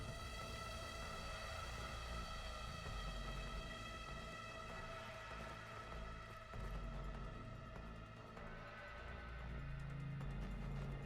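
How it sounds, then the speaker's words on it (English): Sirens wail in the video game Weird West, a loud sustained tone that stays steady and unbroken, with a low rumble underneath and no talk over it. "Start on these sirens."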